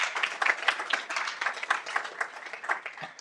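An audience at a school board meeting applauds, scattered claps and a faint cheer rising and falling over about three seconds, moderately distant in a large room.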